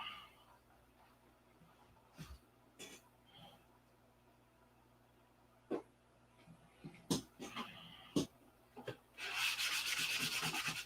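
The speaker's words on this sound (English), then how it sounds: "I'll keep sanding" Quiet room with scattered scuffs and taps, then a steady burst of close scratchy sanding on a P-47 model at the end, raising powder.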